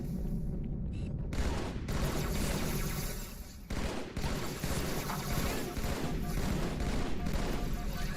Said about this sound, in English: Just stop shooting at me.